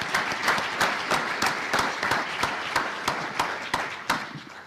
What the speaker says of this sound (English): Please join me in making one more big round of applause for all of our students and their recognitions.